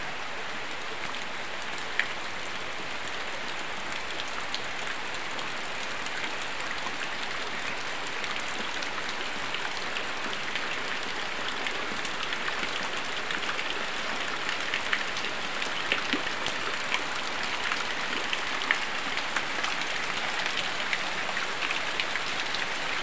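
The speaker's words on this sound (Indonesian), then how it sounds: "Turun hujan deras banget." Heavy morning rain falls in a steady, dense hiss on surfaces nearby, continuous and fairly loud with scattered drop ticks and no voices.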